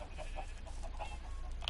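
Minecraft chickens cluck softly in a coop, a few quiet clucks and short calls spread over a low steady background hum.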